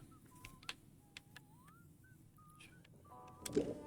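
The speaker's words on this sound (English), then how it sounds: "we hear whistling of a soldier still about" Soldier whistling in the video game Atomfall: a few faint, wavering whistled notes and short gliding phrases drift over a quiet game ambience, with occasional soft clicks and a muffled thump near the end.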